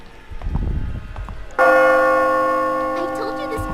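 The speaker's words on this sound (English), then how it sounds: "The bell tolls!" A single loud bell toll in the horror game White Day rings out after some low rumbling and speech, its sustained metallic tone slowly decaying over several seconds.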